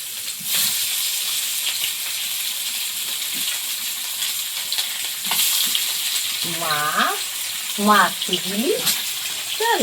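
Small fish fry in oil in a wok, sizzling and crackling steadily, with brief scraping and stirring sounds and a few faint voices in the background.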